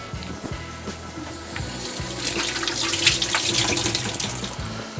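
About half a cup of water pours steadily into a soy sauce mixture in a kitchen, a close, splashing trickle that swells in the middle and tapers off, with no talk over it.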